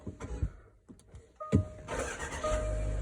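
A Range Rover L322 Mk3 with a faulty starter solenoid gives a few clunks and clicks, then cranks and catches, its engine rising to a steady idle close by.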